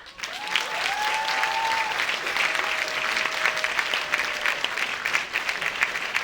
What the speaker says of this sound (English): give Jadyn another great big round of applause